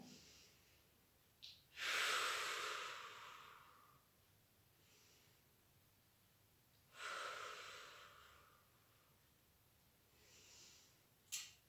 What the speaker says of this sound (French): on travaille la respiration postérieure latérale